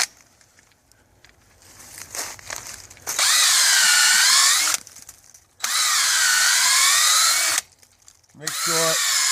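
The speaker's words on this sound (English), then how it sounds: "drill the hole on a slightly uphill angle" A power drill boring a tap hole into a maple tree at a slight uphill angle, three long steady high whines separated by short pauses, loud and close.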